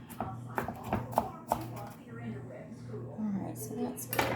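Green onions chopped with a knife on a ridged cutting board, a series of sharp irregular taps close by, with a voice speaking between the cuts.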